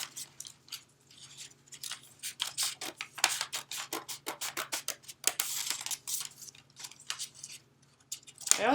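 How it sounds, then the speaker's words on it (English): Scissors snip slits into folded paper in a steady series of crisp, close cuts with short rustles between them, heard alone without talking. "I'm just going to cut my slits in the paper following along the folds"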